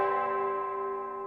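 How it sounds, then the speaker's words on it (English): A clock tower bell in a visual novel video game gives one sustained, resonant strike that rings out clearly alone and decays slowly over a second. "the sound of the bell resounded"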